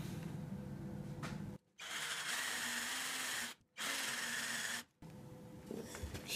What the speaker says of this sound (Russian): сейчас сделаем под перовым сверлышком углубление под гаечки